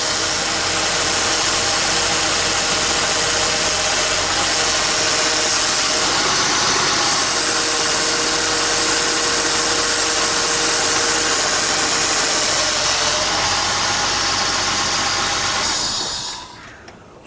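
A running 3.0-liter 1999 Acura CL engine with a noisy power steering pump makes a loud, steady broadband whine and hum that holds unchanged for about sixteen seconds, then cuts off abruptly near the end.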